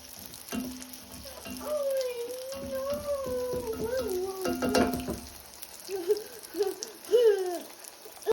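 Pitha cake batter fries in oil in a flat pan with a soft, continuous sizzle, partly under a voice speaking nearby.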